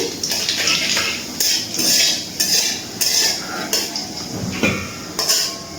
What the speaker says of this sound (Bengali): ফোড়নটাকে একটুখানি নাড়াচাড়া করে নিচ্ছি।